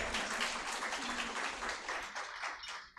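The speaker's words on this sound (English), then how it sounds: "can we have another round of applause for Justice Muralidhar?" Audience applause for a retired justice at a program on violence against migrant women, a steady, fairly quiet wash of clapping that eases off slightly toward the end.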